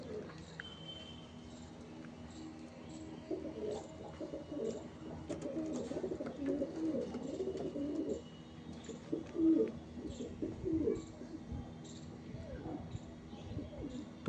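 Fulsira, Kalanka and Madrasi pigeons coo in soft, repeated throaty bursts at close range, with a low background hum and faint chirps around them.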